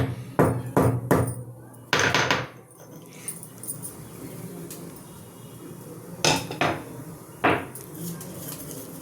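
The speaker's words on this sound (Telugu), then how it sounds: "ఇదిగోండి ఇలా నూరుకుంటున్నాను నేను." Spice paste is ground by hand on a stone for tomato rice, heard as loud rhythmic scraping and knocking strokes in bursts, with quieter grinding between them.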